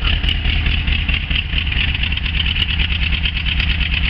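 A 1976 VW camper engine idles steadily at close range, a continuous, even low rumble with a faint higher whine, heard alone.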